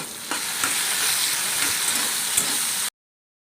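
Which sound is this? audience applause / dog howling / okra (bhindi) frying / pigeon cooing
okra (bhindi) frying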